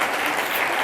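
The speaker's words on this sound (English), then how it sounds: "Always clap for God." A short burst of steady audience clapping on a talk show, a dense even patter throughout with no voices over it.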